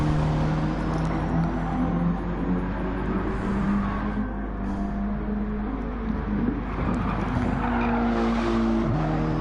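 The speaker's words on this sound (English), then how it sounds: "Going to stick with Chris as we come into the final bends with Trial Mountain" Racing cars roar through the final bends of the Trial Mountain track in a PS4 racing game, engines droning steadily with tyre squeal and skidding throughout, loud and continuous with no talk.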